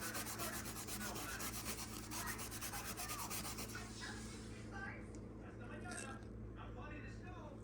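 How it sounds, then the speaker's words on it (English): Honda H22 engine soaked in brake cleaner and scrubbed with a brush, steady close rasping strokes with a fast rhythm, fading to softer intermittent scrubbing as a voice talks over it. "soak this down and do scrubbing at the same time"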